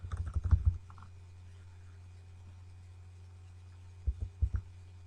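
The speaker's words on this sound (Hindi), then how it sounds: "मैं अब एरो क्लिक करता जा रहा हूँ" Arrow keys on a computer keyboard clicked in a quick cluster of taps, then a long pause over a low steady hum, then a few more scattered clicks.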